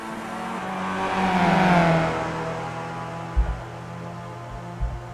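The engine of the number 48 car in a racing video game, set at Montreal, revs up and then settles into a steady, loud drone. Two short low thumps come near the end.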